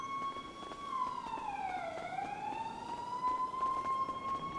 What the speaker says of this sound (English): where every 2 minutes you hear police sirens